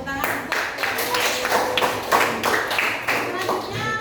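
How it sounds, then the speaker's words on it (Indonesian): Classroom students clap for a presenting group during a school Indonesian-language practical exam, a fairly loud, uneven patter of hands lasting several seconds with voices and chatter mixed in. "kalau tidak ada beri tepuk tangan untuk."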